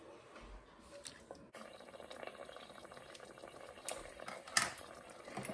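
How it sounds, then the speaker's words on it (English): Chickpea and lentil curry with tinned tomatoes bubbling gently in a pan, a faint close simmer with soft pops and an occasional clink, alone without talk. "let that simmer for a couple of minutes before we add our spices"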